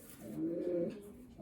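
A blue bar cock racing pigeon coos once, a low rolling call up close, with no talk over it.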